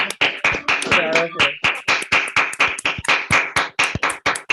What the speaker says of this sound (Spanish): Un aplauso. Adiós.